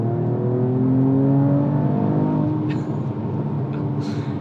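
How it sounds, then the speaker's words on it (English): Mercedes-AMG E53 Coupe heard from inside the cabin while slowing, engine drone with descending tones and brief pops from the exhaust as it rev matches on downshifts. "you are getting some burbles from that exhaust as we slow down and it rev matches"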